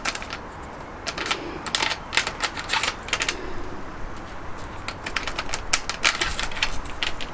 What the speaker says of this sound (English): I've got my stainless steel bolts here. They just slide down into the channel.